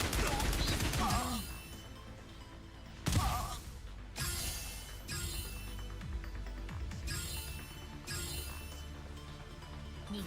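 Volley fire in the game GFL2 Exilium, with a burst of layered gunfire and crashing impacts at the start, then a second heavy hit about three seconds in, followed by repeated swishing effects over a busy game soundtrack.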